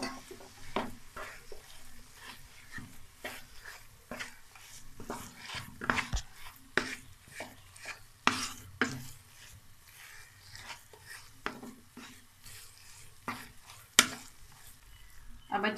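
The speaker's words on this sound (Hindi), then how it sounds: "अब जो खोया मेल्ट किया था वो इन गाजरों में शामिल करेंगे। और इनको अच्छी तरह मिक्स कर लेंगे।" Melted khoya being stirred into grated carrots in a pan for carrot barfi, with repeated scraping and stirring strokes plus a soft sizzle, steady and close throughout.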